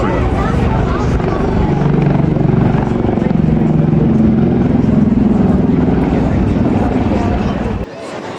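A Wildcat helicopter makes a flypast at an air show in Ayr, its loud rotor and engine noise rumbling continuously close by before dropping off abruptly at the end, with a commentator talking over it.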